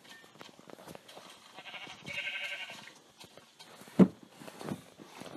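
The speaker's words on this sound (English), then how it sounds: "Oh, what the heck? Another sheep." A sheep in the Minecraft video game gives one short bleat amid quiet game sounds and faint movement, a brief sharp call rising above the low background.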